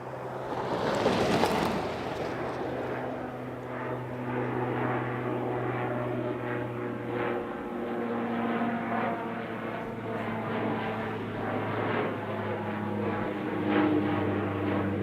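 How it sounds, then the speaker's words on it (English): Two De Havilland Dash 8 turboprop airplanes pass back-to-back at Edmonton International Airport, a loud sustained propeller drone that swells and holds throughout with steady low engine hum. "back-to-back Dash 8s"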